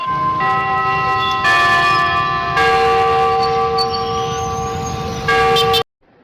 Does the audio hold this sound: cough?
no